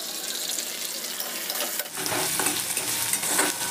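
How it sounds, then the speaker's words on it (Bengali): Chopped onions and slit green chillies frying in a pan, a fairly loud steady sizzle and crackle that brightens partway through with bursts of stirring scrapes, no talking. "ভাজা ভাজা হয়ে যাবে, ততক্ষণ ওয়েট করবো।"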